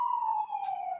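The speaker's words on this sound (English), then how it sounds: "sirens." A police siren wails in one short, loud, steady tone that sags slightly in pitch, heard alone without any talking.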